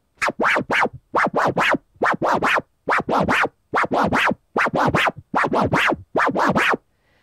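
Turntable tear scratches repeat in about eleven quick, evenly spaced bursts, each a rising-falling scrubbing sweep, loud and close with brief gaps between.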